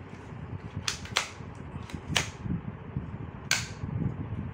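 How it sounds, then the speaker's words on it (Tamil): Nerf toy gun being loaded and fired, giving four sharp snapping clicks spread unevenly over a few seconds against a quiet room background, with no talking. "இப்படி லோட் பண்ணிட்டு ஷூட் பண்ணுறது ஃப்ரெண்ட்ஸ்."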